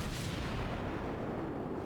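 Naval gunfire from a warship in World of Warships, a sustained low rumbling boom and roll of heavy shots in battle, fairly faint and continuous.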